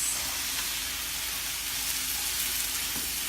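Cauliflower rice with peppers and chili fries in a pan, giving a loud, steady, close sizzle and hiss throughout with no talking.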